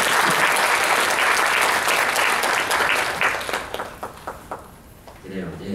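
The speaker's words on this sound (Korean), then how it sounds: "박수 한번 주실 만 합니다" Applause from a lecture audience rolls on steadily for about three seconds, then thins into scattered claps as a speaker's voice comes back in near the end.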